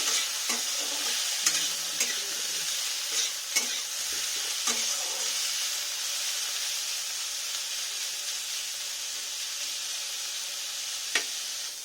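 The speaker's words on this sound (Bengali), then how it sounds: "লাল লাল করে ফুলকপিগুলো ভেজে নেব।" Cauliflower florets frying in hot oil in a wok, a steady close sizzle and hiss broken by occasional sharp clinks and scrapes of stirring, with no talk.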